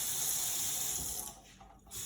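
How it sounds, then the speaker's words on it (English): A faucet runs with a steady rushing stream of water close by, then the flow thins and sputters briefly before surging again near the end. "Did you say a faucet?"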